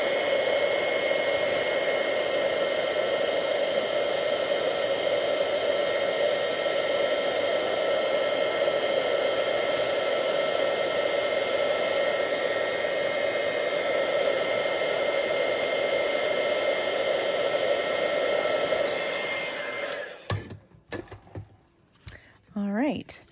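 A heat tool blows hot air over a shaving cream stencil card, a loud, steady whirring hiss with a droning hum that holds for about twenty seconds before cutting off into a few quiet handling noises.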